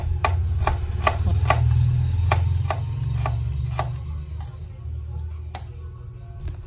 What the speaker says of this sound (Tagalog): gayat-gayat lang ako ng sibuyas at bawang